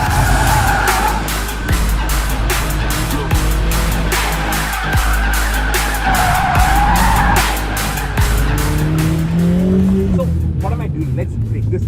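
A Mercedes-AMG A 45 S 4MATIC+ drifts through a corner, its tires squealing loudly and continuously over a hard-revving engine roar, close by, before the sound eases off near the end.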